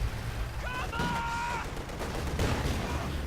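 Grenade blasts and bursts of gunfire from a Company of Heroes 2 2v2 battle, with Soviet Guards Infantry in the fight. The fire is fairly dense and overlapping, with a high whistling tone early and a heavier impact later, under faint background talk.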